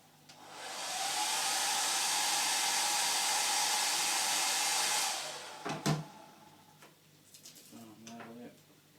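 A heat gun blows a steady, loud hiss for several seconds while heating vinyl wrap on car trim, then cuts off, followed by a few handling clunks and a faint voice.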